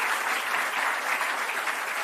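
An audience at a political campaign launch breaks into sustained applause, a dense, even wash of clapping from a crowd throughout.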